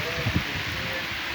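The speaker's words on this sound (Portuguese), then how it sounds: "A chuva está sendo grossa, veio com vento forte." Heavy rain driven by strong wind at a rural farm in Ceará, a dense steady hiss with a couple of low thumps near the start, close and unbroken.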